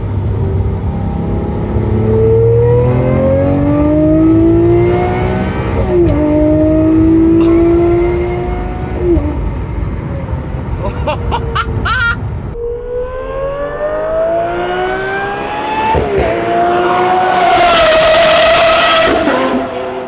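A Lamborghini engine revs up and down repeatedly, rising pitch sweeps roaring loudly and close, with a sharp high whine at the peak.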